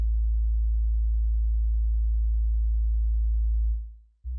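A plain sub bass synth tone from the Loopmaster Bass Master plugin, a pure, deep, steady hum held for nearly four seconds before fading out and briefly restarting.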